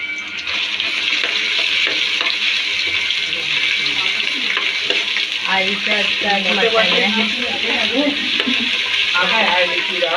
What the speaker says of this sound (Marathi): आता आई मटन फोडणीला देते ते तुम्हाला दाखवते